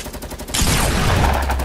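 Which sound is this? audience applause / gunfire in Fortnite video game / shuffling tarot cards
gunfire in Fortnite video game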